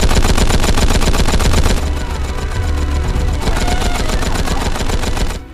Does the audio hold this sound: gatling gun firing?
yes